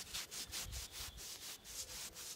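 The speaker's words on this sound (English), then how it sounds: "just rub it in. Give it a good rubbing." A cloth soaked in teak oil rubs into a wooden garden bench with quiet, rhythmic back-and-forth swishes, soft and close, repeating steadily without voices.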